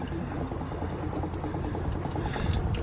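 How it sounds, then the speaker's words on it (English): Steady rushing and gurgling water drains from a travel trailer's hot water heater, a close, even stream with faint splashes and no pauses. "And the water will drain from the hot water heater."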